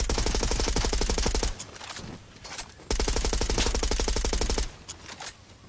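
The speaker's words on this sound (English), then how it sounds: "This SMG goes wild." Fortnite SMG firing two long, rapid bursts, each loud and close with a brief pause and lingering tail between them, no voices over it.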